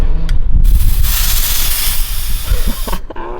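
Medical grade nitrous tanks are cracked open, releasing a loud, steady rush of hissing gas that swells after a short tap and cuts off sharply after about two and a half seconds.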